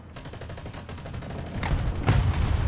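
Gunfire from a Yak-130 jet in War Thunder: a rapid, continuous burst of cannon fire that grows heavier and louder toward the end, with a couple of sharper impacts, no talking.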